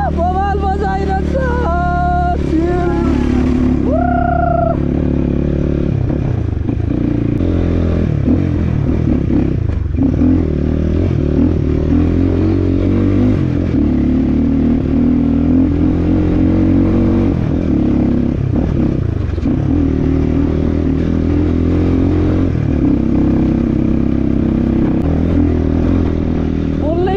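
A CX 250 motorcycle ridden on a rough gravel road, its engine revving through a few quick gear shifts, then droning steadily with bumps and clatter beneath loud wind buffeting, close and continuous for the whole stretch.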